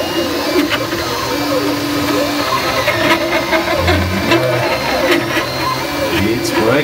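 A Flashforge Dreamer 3D printer runs steadily after recovering from a clogged print head, its stepper motors whirring and buzzing in continuous, shifting tones at close range.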